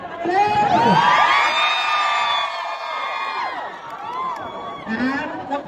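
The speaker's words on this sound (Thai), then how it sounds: "ขอเสียงเชียร์คน" A large crowd cheers at a political rally in Phitsanulok, with loud whoops, shouts and high-pitched screams rising together, dipping briefly, then swelling again near the end.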